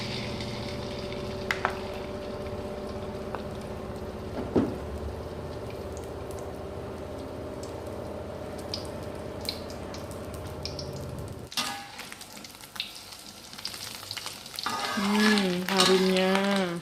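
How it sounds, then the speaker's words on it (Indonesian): An egg fries in hot oil for an Acehnese asam sunti omelette, giving a steady close sizzle with occasional stirring clicks, growing louder and more crackly toward the end. "Setelah minyak panas, goreng telur."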